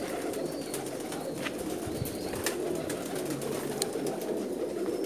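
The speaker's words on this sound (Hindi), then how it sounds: "बेशुमार कबूतर हैं जी उनके पास" Pigeons coo in a low, constant murmur at a large loft housing thousands of birds, with brief wing flutters and scattered faint chirps mixed throughout the dense, steady flock noise.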